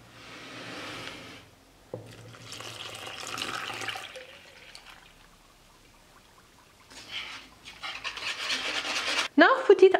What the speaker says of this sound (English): Now add the milk.